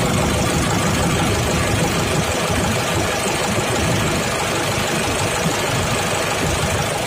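A tractor engine runs at a steady idle on a farm, a loud, continuous diesel clatter and rumble with no talking.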